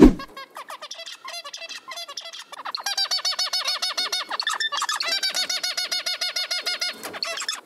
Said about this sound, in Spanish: A modo de ejemplo tenemos este sonido de pájaros.